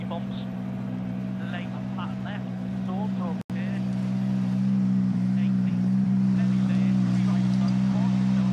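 Steady loud engine drone and road rumble inside a WRC rally car on a bumpy gravel stage of the 2023 Kenya rally, continuous throughout with a brief cut midway and faint chatter over the engine.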